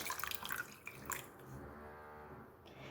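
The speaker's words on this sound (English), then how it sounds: "we're going to put the water in the tub" Water splashes and trickles into a tub holding prawns, with a few drips and pours early on, then a quieter steady running of water.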